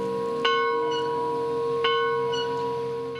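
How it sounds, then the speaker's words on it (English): Old one-room schoolhouse bell in rural Ashland County, rung twice about 1.4 seconds apart, each clear metallic strike leaving a long sustained ringing hum that slowly fades. "The old schoolhouse bell signals the start of the day."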